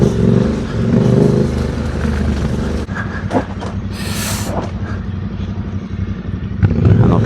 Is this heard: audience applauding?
no